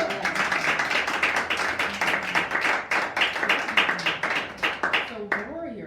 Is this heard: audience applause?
yes